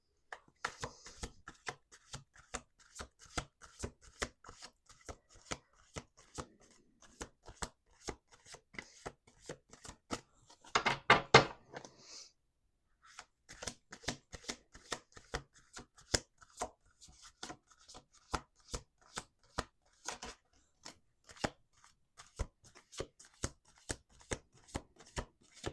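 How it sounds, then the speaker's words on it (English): Playing cards are shuffled repeatedly, crisp rapid riffling clicks in bursts, with a louder riffle midway and a brief pause after. "Let's do 2 more shuffles."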